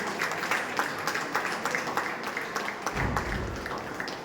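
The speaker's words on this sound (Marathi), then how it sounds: "आपण सगळ्यांनी जोरदार टाळ्यांनी त्यांच्या कार्यकर्त्यांना एक जोरदार सलामी देऊया" An audience at a Hindutva public gathering claps to welcome the chief speaker to the stage: a steady wash of crowd applause with dense, close-packed claps, fairly even in loudness throughout.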